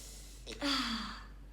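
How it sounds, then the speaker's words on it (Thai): A single deep breath drawn in through the nose, close and fairly quiet, a short airy inhale rising then tapering off, with no talk over it. "แล้วก็สูดอากาศเข้าไปลึกๆเลยครับ"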